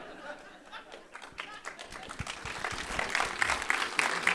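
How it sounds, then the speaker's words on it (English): Symposium audience applause builds from scattered claps into a fuller, louder round, mixed with some chatter and light laughter from the crowd. "You're already applauding"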